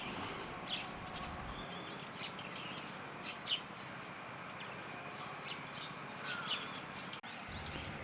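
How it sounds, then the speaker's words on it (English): A Eurasian nuthatch in South Hokkaido gives short, sharp, high calls, scattered and repeated over a steady outdoor background hiss. "Lots of other species were coming down from the nearby hills, including Eurasian nuthatch."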